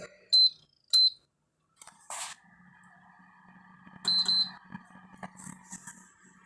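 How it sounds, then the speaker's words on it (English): A heater gives a few short, high electronic beeps: two quick chirps, then a pair more after a pause, all close and clear over a low hum, with faint background noise between them. "My heater just beeped."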